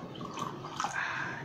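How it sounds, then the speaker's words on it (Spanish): Water is poured into an empty pitcher with no ice while making lemonade, a short, close, splashing pour lasting barely over a second. "Así que no va a haber ningún problema en echar el agua."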